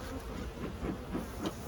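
Honey bees hum and buzz around an open hive during an inspection, a soft continuous drone close by with gentle swells and no voices.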